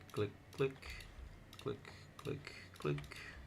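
A computer mouse clicks while someone works in animation software: about six separate sharp clicks spaced unevenly, close and fairly quiet, with a faint room hum in between.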